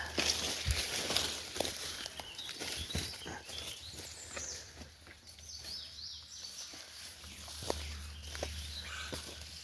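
Faint, scattered bird calls and chirps in an outdoor setting, with soft rustling and footsteps-like patter and a low hum underneath.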